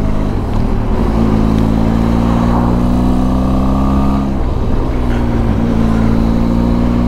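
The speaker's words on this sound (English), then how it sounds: "I hope you can hear that noise from the bike. It sounds really good." Benelli TRK 502 X adventure motorcycle engine, a loud, steady twin-cylinder drone heard close up while riding, with its pitch sliding up and down as the throttle changes.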